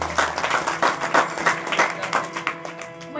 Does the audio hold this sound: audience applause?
yes